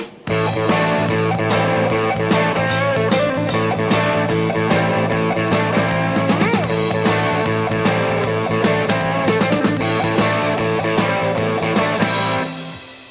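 A full rock band pounds out a steady driving heavy metal boogie groove with drums, bass and distorted guitar locked together, loud and sustained until an abrupt stop.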